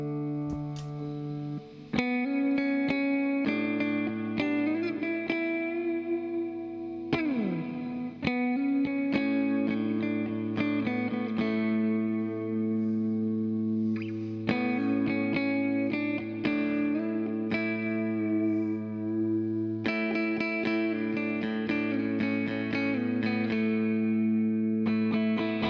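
A Gretsch 5410T electric guitar on a clean channel with reverb, ringing chords and single notes played continuously with a sustained, spacious tail and a slight edge of breakup, no talking.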